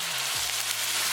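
Chopped onion hits hot oil in a pan and sizzles steadily and loudly for a brief moment, close by with no voices.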